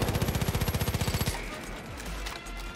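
Rapid automatic gunfire in Far Cry New Dawn, a loud steady burst of evenly spaced shots for over a second that cuts off into scattered quieter in-game noise.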